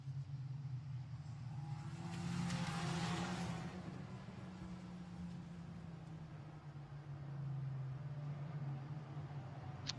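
Formula Renault Eurocup race cars at Imola on their in-lap produce a steady mid-pitched engine drone that swells as a car passes, then settles into a distant rumble before rising again.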